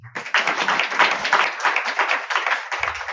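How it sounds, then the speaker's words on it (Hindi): An audience claps together at a Krishna devotional discourse, a dense burst of many hands. The clapping starts right away and holds steady for about three seconds before thinning at the end. "ताली मारो।"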